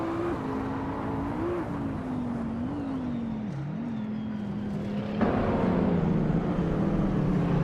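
Supercar engines at the start of a combined-class race at Charade in a racing video game, a 2004 Koenigsegg C8S on pole among them: a steady, loud engine drone that wavers in pitch and then jumps into a louder, harder note near the end.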